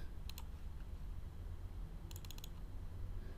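A computer keyboard shortcut is typed in a quiet room. A brief click comes first, then a quick cluster of four or five crisp key taps a couple of seconds later, faint against a steady background hiss.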